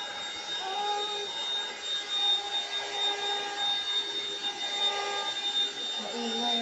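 A small handheld mini vacuum cleaner runs with a steady high-pitched whine and airy hiss, fairly quiet and continuous, its tone wavering slightly throughout.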